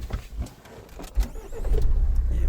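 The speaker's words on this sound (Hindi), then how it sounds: "मैं गाड़ी स्टार्ट कर लेता हूँ" A Mahindra Scorpio S11 is started: a few clicks and a brief cranking whir, then the engine catches and settles into a steady, close idle rumble.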